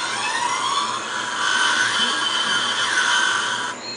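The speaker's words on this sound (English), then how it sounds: "you get that huge revving sound like it's powering on" A Tron Legacy light cycle toy powering on, a loud electronic revving whine that rises and swells in pitch over a few seconds, then stops abruptly.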